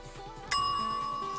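A single bright bicycle-style bell strike rings out close and clear, its metallic tone sustaining and slowly decaying over a quiet background.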